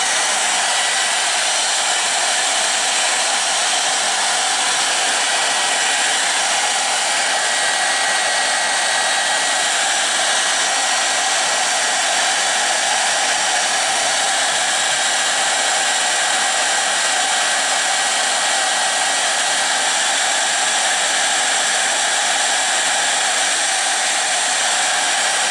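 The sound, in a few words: hair dryer drying green colour on a wooden top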